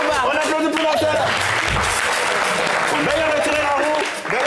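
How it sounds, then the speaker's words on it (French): A studio audience at a French-language TV variety show breaks into loud, dense, sustained applause, with cheering voices mixed into the clapping throughout. "On applaudit pour la terre."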